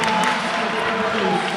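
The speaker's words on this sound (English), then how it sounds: "And this crowd is energized." A packed crowd at a college men's basketball game roars and cheers, a loud continuous wash of voices filling the arena, with an announcer's voice faintly riding over the din.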